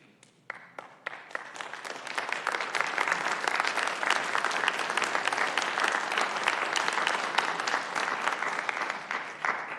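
Applause from the audience at a city council meeting, a burst of clapping that swells quickly and holds steady and dense for several seconds.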